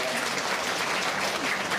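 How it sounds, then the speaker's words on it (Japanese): A crowd clapping steadily at Turtle Talk in Tokyo DisneySea, a dense wash of applause that holds at an even level throughout. "みんな相馬に俺の拍手だ。"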